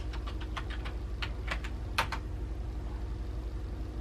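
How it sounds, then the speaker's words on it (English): Typing on a computer keyboard, a rapid run of light, close key clicks in an uneven rhythm with a low background hum underneath. "all you have to do is type in what you had."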